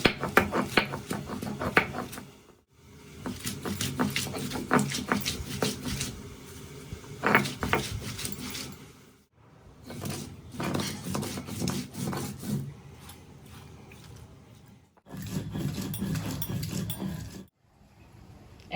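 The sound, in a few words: grinding mint leaves and green chillies together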